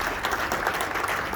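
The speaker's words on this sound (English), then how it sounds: "So give yourself a huge round of applause." A crowd at a campaign breakfast event for a Georgia Senate candidate breaks into applause: a full, even wash of many people clapping at once, sustained and fairly loud, with no voices on top.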